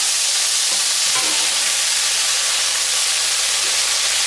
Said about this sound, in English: When your smoked sausages have browned slightly, add your stir-fry blend into the skillet. You want to stir it well.